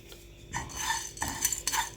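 Whole coriander and white cumin seeds dry-roasted without oil in a karahi pan, heard as light clinking and scraping of a utensil against metal in a few short bursts, close and fairly quiet, with no talking.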